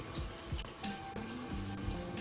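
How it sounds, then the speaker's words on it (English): Warm water running from a sink tap as a face is rinsed, a soft continuous splash with small irregular splatters and no talk. "So I just rinsed off with warm water"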